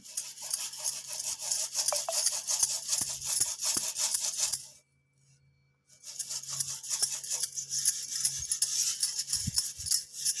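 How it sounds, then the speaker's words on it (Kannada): A steel utensil is scrubbed with a cleaning gel bought online, a loud close rasping scrub in rapid strokes that pauses briefly and then resumes. "ಇದ್ರಲ್ಲಿ ಕೂಡ ಕ್ಲೀನ್ ಮಾಡ್ತೀನಿ ಈಗ ಸ್ಟೀಲ್ ನಾನು ತೊಗೊಂಡಿದ್ದೀನಿ"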